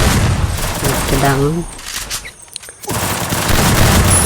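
Loud, dense bursts of automatic gunfire in an online team shooter video game, heard close up around a man's speech, with a short quieter gap before the firing resumes.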